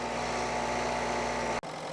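A Renault Scenic 3 diesel engine holds a steady fast idle around 1500 to 2000 RPM, a close, even hum with a firm low drone, briefly cutting out for an instant near the end.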